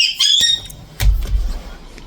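A pet bird in its cage lets out a shrill, piercing squawk at the start, followed by a few softer squeaks and rustles nearby, loud and close with no speech over it.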